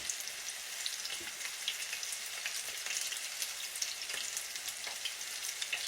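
Food sizzles and crackles steadily in hot grease in a home kitchen, a bright continuous frying hiss with scattered pops and no talking.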